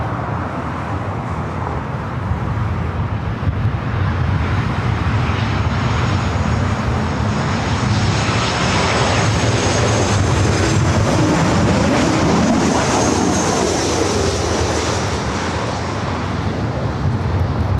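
A Southwest Airlines Boeing 737-700 jet arriving at LAX from Tucson produces a steady, broad engine roar that swells as it passes, with a rising whine, over distant airport and traffic rumble.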